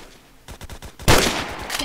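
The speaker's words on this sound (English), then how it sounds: "Music to my ears with bullet shots in the game." Rapid gunfire from the Roblox shooter Phantom Forces: a quiet start, then a string of sharp repeated shots about halfway through, followed by a loud, dense burst of automatic fire that stays close and continuous to the end.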